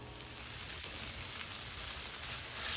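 Onions sizzle in a pan after softening and start to brown for a Polish hunter's stew, giving a steady close, even hiss that lasts throughout with no voices.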